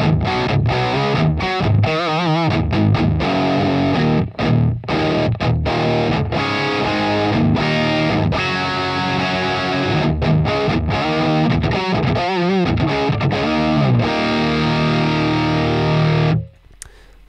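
Distorted electric guitar recorded through a Line 6 Helix cab with a dark 121 ribbon microphone, playing dense chugging riffs with sharp rhythmic stops, loud and up close, alone until it cuts off near the end.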